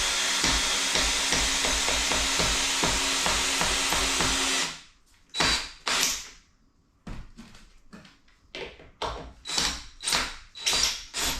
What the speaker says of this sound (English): Drill in straightish for a moment.